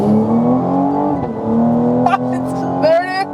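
A 2020 Cadillac CT5-V's twin-turbo V6 pulls hard under acceleration, its rising engine drone climbing through the gears with brief shift breaks, loud and close throughout.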